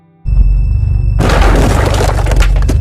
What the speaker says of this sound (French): Et le voisin, avec sa géante main, casse totalement la chambre